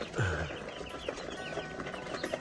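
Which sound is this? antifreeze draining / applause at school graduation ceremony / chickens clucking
chickens clucking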